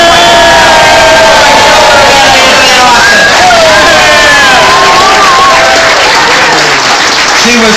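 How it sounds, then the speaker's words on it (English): Loud crowd applause and cheering at a Boston mayoral campaign speech for Rob Consalvo, with dense clapping throughout, rising whoops and whistles over it, and a roaring, close, sustained sound. "How about a big another round of applause?"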